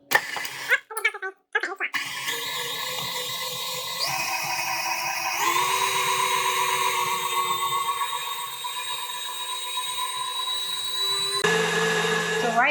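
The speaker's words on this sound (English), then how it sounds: "I'm going to lower my whisk down, and I'm just going to blend all of these cheeses together." Electric stand mixer with a whisk attachment beating cheeses for a New York style cheesecake, a few clanks, then a steady motor whir that steps up in speed and pitch twice, close and loud.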